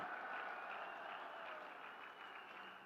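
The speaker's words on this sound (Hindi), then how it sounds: "ताली बजाइए, आपका काम हो रहा है।" A large crowd at an outdoor political rally in Pithoragarh claps continuously, a dense, steady roar of applause that holds for the whole stretch and fades slightly toward the end, with no talk over it.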